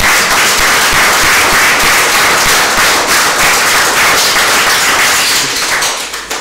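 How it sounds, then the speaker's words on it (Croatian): Loud, dense audience applause fills the space for the whole stretch, a steady wash of many clapping hands at a talk show recording that thins slightly at the very end. "Viš kako iznuđujemo pljeskove"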